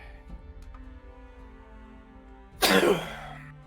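A single sharp, loud sneeze bursts out near the end after a quiet stretch of faint background noise.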